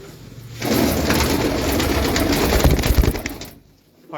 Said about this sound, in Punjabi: ਇਹ ਯਾਰ ਕਾਲਾ ਕਬੂਤਰ ਫੜੀ ਜ਼ਰਾ ਭਾਈ।